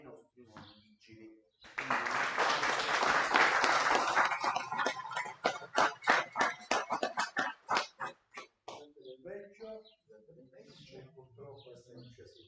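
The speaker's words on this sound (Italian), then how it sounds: "a cui facciamo un applauso" Applause at a town council meeting in Puglianello: a dense burst of clapping from the assembled audience rises suddenly, holds loud for a few seconds, then thins into scattered individual claps as talk resumes around it.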